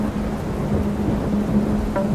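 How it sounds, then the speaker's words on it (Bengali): A thunderstorm breaks over a village cremation ground. Steady, loud heavy rain pours down with a low rumbling of thunder beneath it, and no voices are heard. "ঠিক এমন সময় আবার ঝমঝম করে বৃষ্টি শুরু হয়।"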